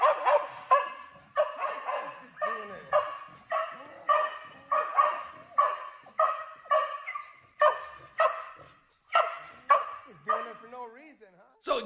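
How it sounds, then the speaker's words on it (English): A reactive dog barks repeatedly in a steady rhythm, around a dozen loud close barks with occasional yips and whimpers between them. "I'm gonna let this dog bark"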